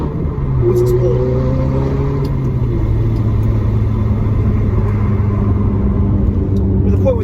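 Ferrari F430 engine and exhaust rumbling steadily while driving, a continuous low drone with shifting tones throughout, close and loud, with a voice talking over it.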